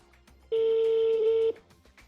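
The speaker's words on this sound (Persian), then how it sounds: "یه بار دیگه من تلفنشون رو میگیرم." A single steady telephone dialing tone sounds for about one second while a call is placed to Iran, loud and alone between quieter room noise.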